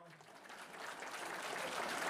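A crowd at a Saint Valentine's Day event claps for the mayor, a soft wash of applause that swells steadily louder across a couple of seconds.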